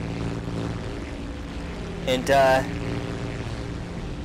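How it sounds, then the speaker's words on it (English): A propeller airplane engine drones steadily in the War Thunder video game, a constant tonal hum, while a voice briefly speaks over it midway. "We got a new plane here."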